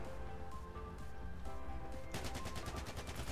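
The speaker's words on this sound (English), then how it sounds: "You see shots coming from pretty much every direction" Gunfire in the video game Battlefield 4 cracks from several directions, turning into a rapid, evenly spaced burst of automatic shots near the end, over a low background hum.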